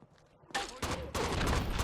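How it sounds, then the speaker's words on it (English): Gunfire in Rainbow Six 3 on the original Xbox bursts in abruptly after a quiet moment. A loud volley is followed by a second, sustained rattle of close shots. "Taking fire!"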